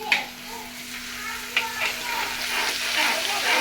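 Ginger paste sizzles in hot oil with a steady crackling hiss, broken by a few sharp spoon clinks against the pan.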